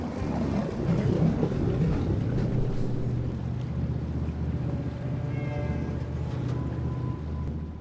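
A boat ride to Far Harbor in the Fallout 4 video game, with a steady low engine rumble and rushing wind and water noise, continuous and unbroken throughout.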